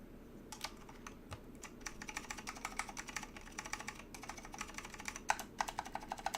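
Continuous close typing on a Lunar AEK 65 mechanical keyboard fitted with SKCM Orange Alps switches, with irregular rapid clacks and a few heavier strokes, heard alone late at night.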